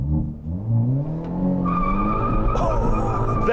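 A 2022 Hyundai Elantra N driven hard, its engine droning loudly up close as the tires squeal in a rising, wavering screech that builds through the run and stays strong to the end, with no talking.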